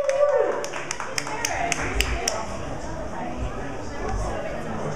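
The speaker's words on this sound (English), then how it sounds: "Let's have a big hand. Look, big hand, applause." Scattered audience applause and a few claps at a lively boudoir-themed show, with chatter and whoops over steady crowd noise, the claps tapering after the first couple of seconds.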